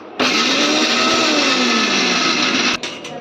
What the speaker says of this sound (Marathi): चला याच्यामध्ये मिक्सरमध्ये आता वाटून घेतो आहे आम्ही